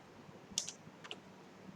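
A few faint, crisp clicks of keys being pressed on a computer keyboard come from close by in a quiet room, scattered across a short moment with no talk.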